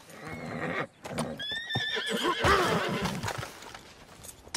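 Horse in the video game Red Dead Redemption 2 gives a loud, close whinny mid-clip, with hoof clip-clop and shuffling around it and a busy game soundscape throughout.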